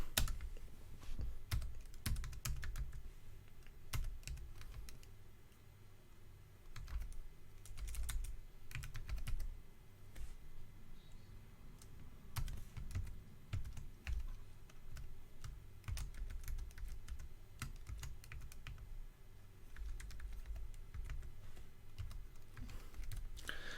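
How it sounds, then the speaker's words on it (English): Typing on a computer keyboard while entering a command during a SteamOS install in VirtualBox, with irregular clustered key clicks over a low steady hum, close and fairly quiet for about twenty seconds. "we now need to type in another command, which is the following."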